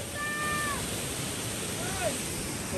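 A loud, steady waterfall roars without a break beside a rocky garden path, filling the whole stretch, with a few faint whistle-like tones above it and a voice speaking briefly in the background.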